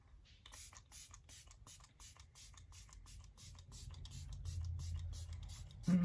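An e.l.f. setting spray misted in a long run of rapid, close pumps, each a short airy hiss in a steady rhythm, with low rumble building underneath.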